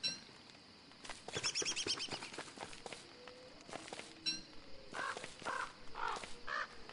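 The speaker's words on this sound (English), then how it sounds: "Get away, bird." Crow-like caws from a bird in the survival video game Don't Starve, a burst of harsh repeated calls early on and another run of loud caws near the end, over soft footsteps and game ambience.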